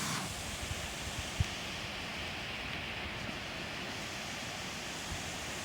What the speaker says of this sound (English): Here's the beautiful waterfalls that's right outside of my shelter tonight.